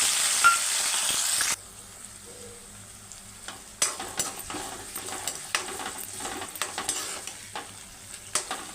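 Onion and curry leaves dropped into hot oil already holding mustard seeds, cumin and chilli, with a loud hiss at first that settles into a steady close sizzle with occasional stirring clinks.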